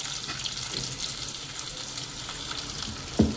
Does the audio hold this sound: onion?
yes